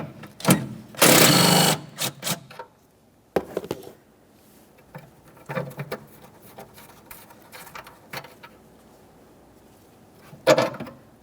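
Close metallic clicks, scrapes and ratcheting bursts as a 10mm mounting nut is loosened and a metal bracket removed on a 2011-2020 Toyota Sienna 3.5L V6 engine bay, intermittent with a loud rattling burst early and quiet gaps between.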